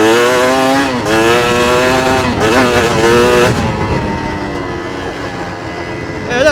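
Chinese dirt bike engine pulling in gear while ridden, loud and close, with rising and falling revs across several surges before settling into a lower drone, while a rider talks over it.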